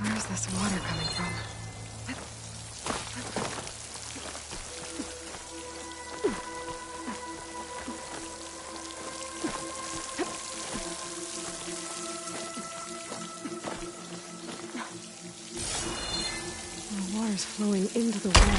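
Water flows and splashes near a waterfall in Horizon Forbidden West: a steady, rain-like patter and rush with tonal game music layered over it, running continuously throughout.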